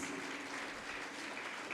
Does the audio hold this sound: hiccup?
no